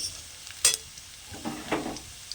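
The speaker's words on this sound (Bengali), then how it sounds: "তো রসুনটা ভাজা হয়ে গেছে" Chopped garlic fries in a pan, a quiet background sizzle broken by a sharp metal clink and a couple of scraping stirs of the spatula.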